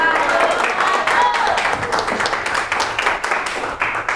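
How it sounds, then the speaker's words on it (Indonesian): A classroom of students breaks into brisk, scattered clapping after a group presentation, close and lively, with some voices mixed in. "Tepuk tangan."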